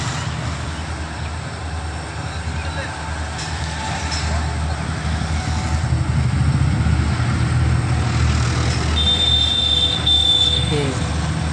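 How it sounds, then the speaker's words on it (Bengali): A goods train rumbles steadily over tracks through a flooded area, a loud continuous roll of wagons with a brief wheel squeal near the end, while someone talks over it. "দেখেন এর ওপর দিয়ে কিন্তু ট্রেন যাচ্ছে"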